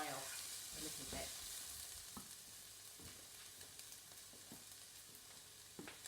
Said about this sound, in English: my Swiss chard and my courgette fry off a little bit